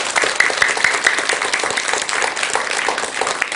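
Steady applause from a crowd at a Buddhist monk's lecture, dense and continuous, with hands clapping throughout and no one speaking over it.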